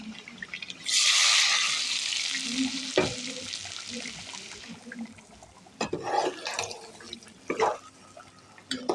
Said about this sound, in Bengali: এখানে এই যে মাংস কষানো হয়ে গেছে